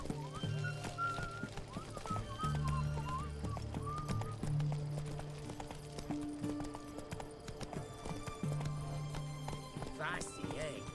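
Roach the horse galloping in the Witcher 3 video game, a steady rhythmic clip-clop of hooves running, with game music and a voice talking over it.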